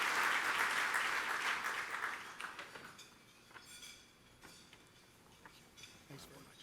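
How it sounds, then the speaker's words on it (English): Audience applause at a Father of the Year awards event, a dense burst of clapping that swells for about two seconds and then thins into scattered, fading claps. "Let's give a big round of applause."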